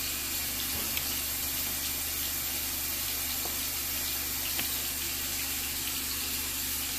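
Hot water runs steadily from a tap into a sink during piercing aftercare, a constant close hiss and splash with no pauses and no one talking over it.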